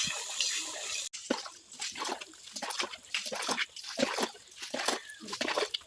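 Water splashing and trickling continuously as it fills a guppy fish pond, with uneven bursts of pouring and dripping close by.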